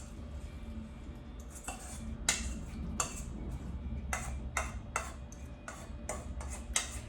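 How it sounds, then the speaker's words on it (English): A spoon stirs apple pie overnight oats with chia seeds and liquid in a bowl, making repeated clinking taps against the dish in an uneven rhythm over a soft, wet mixing sound. "So just mix it all together until thoroughly combined."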